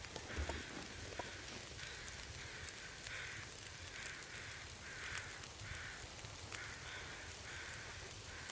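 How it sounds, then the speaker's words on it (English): Crows caw repeatedly in a morning scene from the survival video game The Long Dark, harsh calls in irregular bursts at moderate distance over a constant wind-like background hiss. "I love the sound of crows in the morning."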